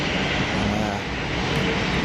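EasyJet Boeing 737 climbing out after takeoff from Geneva, a steady, loud broadband jet roar that holds constant throughout.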